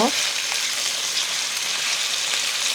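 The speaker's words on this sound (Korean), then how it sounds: "감자를 볶을 때 자꾸 뒤집지 마세요." Potatoes fry in a pan, giving a steady, bright sizzle that stays loud and close throughout, with no voice over it.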